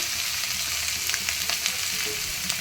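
Fish and mixed winter vegetables with turmeric sizzle in a pan while being stirred, a steady close frying hiss broken by soft spatula scrapes.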